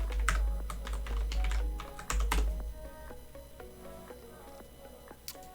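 Fingers type on a computer keyboard to enter login details, producing bursts of close, crisp key clicks in uneven clusters, with a low hum underneath and no talking.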